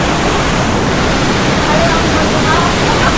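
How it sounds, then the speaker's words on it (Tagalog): Silvermine Waterfall in Mui Wo, Hong Kong, roars as a dense, loud, continuous rush of falling water heard up close, filling the whole short stretch without pause. "So ayan, Silver Mine Waterfalls."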